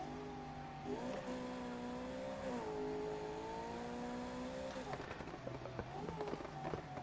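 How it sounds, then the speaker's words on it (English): A supercharged German V8 revs up and down in a few rising and falling sweeps with a whining tone, heard at low level under overlapping talk. "I love me a supercharged German V8."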